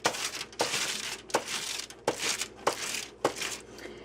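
Aluminum foil lining a slow cooker insert crinkles as a stick of butter is rubbed across it, loud, close crackling in repeated strokes with short pauses between.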